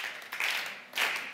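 Scattered, modest applause from a live audience at a Catalan comedy wrestling show, two soft swells of clapping with no talk, fairly faint and brief.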